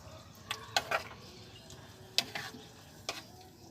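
Garlic is stirred in a frying pan, giving a soft steady sizzle broken by several short scraping clinks of a utensil against the pan, with no talk.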